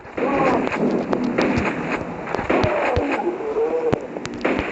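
Machine gun fire from Quake 2 on mobile: rapid, sharp bursts of shots crackling over a steady bed of game sound with a humming tonal layer, loud and close throughout.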